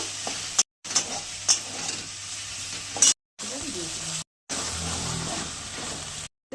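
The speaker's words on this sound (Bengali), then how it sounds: "এবার একটা টমেটো কেটে রেখেছিলাম, দিয়ে দিচ্ছি। টমেটোটা ভেজে নেব।" Chopped tomato frying for vegetarian chana masala, a steady close sizzle broken by a few brief silent gaps, with occasional sharper clicks of stirring.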